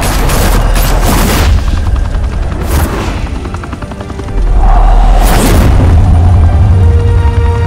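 Rapid gunfire and heavy blasts from a Batman: The Telltale Series shootout rattle loudly through a dense roar, easing briefly mid-clip before a steady rumbling drone resumes.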